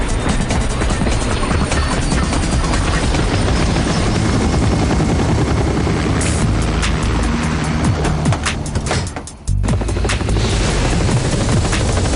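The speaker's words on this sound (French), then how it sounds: "Montez dans l'hélicoptère." Cartoon helicopter in a spy show, a loud steady rotor roar with a busy engine wash running throughout, a brief dropout near the end, then the roar returns.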